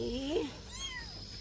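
A cat in a rural village yard gives a short, clear meow up close, with fainter cries and a high steady background tone behind it.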